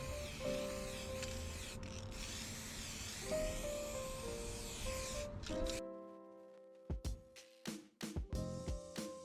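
Short hissing bursts of spray paint coating wood trim bits in gold, close and fairly quiet over a low mechanical hum, ending with a series of sharp separate sprays.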